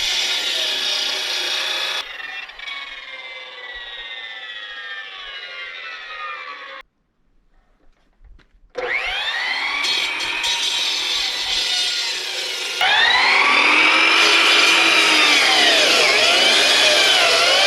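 A motorized saw grinds and whines through wood in long sustained passes, pitch rising and falling, with a brief quiet gap midway.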